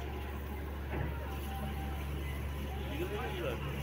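A Darjeeling diesel toy train engine rumbles steadily at close range as it arrives, a low continuous drone with faint voices murmuring in the background.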